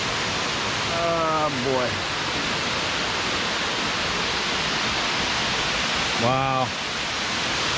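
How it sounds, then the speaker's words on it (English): Steady, loud rushing roar of the waterfall at Quaker Falls Recreation Area in Edinburg, Pennsylvania, constant and broadband, with a man's brief exclamations heard over it twice. "I love waterfalls"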